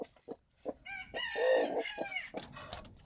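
Hens in a backyard poultry flock cluck nearby in short, sharp bursts, with one drawn-out, throaty call in the middle and more clucks trailing after.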